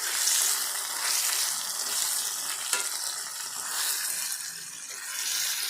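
Garlic cloves and tomatoes frying together in a pan, a close, continuous hissing sizzle that swells and eases gently over a few seconds.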